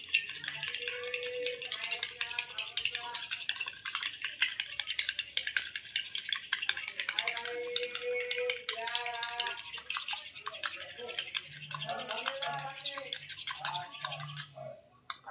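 Aloe vera gel mixed into shampoo with a spoon, a rapid continuous scraping and clicking against a container, close and steady throughout, with faint speech-like murmurs in the background.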